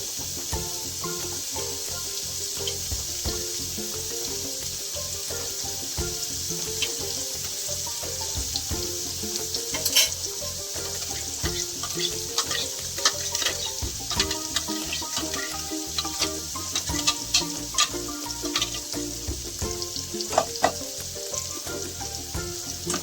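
Oil sizzles steadily in a hot pressure cooker while paneer tikka masala is being made, a loud, continuous crackling fry with scattered pops and light clinks throughout, no voices.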